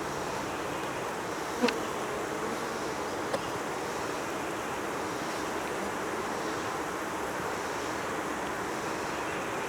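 Honeybees buzzing around an open hive at an outdoor apiary, a dense continuous hum of many insects with a couple of faint clicks, steady and moderately close, no speech.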